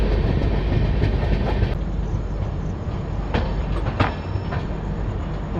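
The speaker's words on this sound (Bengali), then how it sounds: "ট্রেন ফারাক্কা ব্যারেজ ক্রস করে গেছে, এবার খুব তাড়াতাড়ি মালদা পৌঁছে যাবে।" A Garib Rath Express on the Kolkata–Guwahati route runs along the tracks past Farakka Barrage toward Malda, giving a steady, loud carriage rumble with occasional sharp wheel clicks and no voices.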